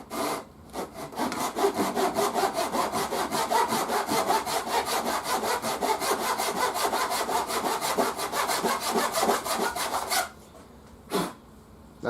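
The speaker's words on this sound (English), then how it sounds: "these fret saws are just absolutely perfect for the job" A fret saw cuts a fret slot in a bass guitar neck with fast, even back-and-forth rasping strokes, close and loud for about ten seconds, then stops, followed by a couple of isolated scrapes.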